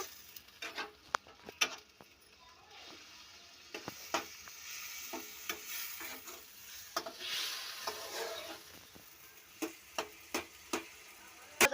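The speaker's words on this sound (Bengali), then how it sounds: "ভালো করে মশলাটাকে কষিয়ে নেব ওর মধ্যে একটু জল দেব অল্প করে" A spice paste with a little water is stir-fried for a soybean and potato curry, giving a faint, quiet sizzle broken by irregular clicks and scrapes of a spoon against the pan.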